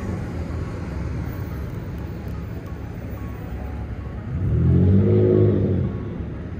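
A car drives past on a city street at night in Cleveland, Ohio, swelling from steady low traffic rumble to a louder nearby pass and then fading back down.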